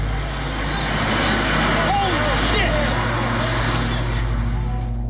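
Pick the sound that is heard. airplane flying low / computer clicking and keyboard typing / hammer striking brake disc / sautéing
airplane flying low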